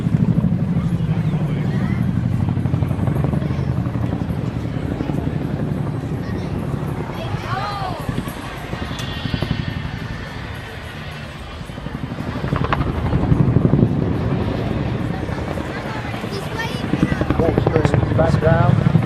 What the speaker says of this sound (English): Please welcome 2014 the Chinook display team.